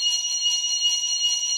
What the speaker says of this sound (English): that's like an old school metal bell from when I was in like second grade